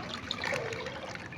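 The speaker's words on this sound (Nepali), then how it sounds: "कत्रो खोला त आएको" A stream swollen with water near rice fields rushes steadily, a continuous close wash of flowing water with no voices over it.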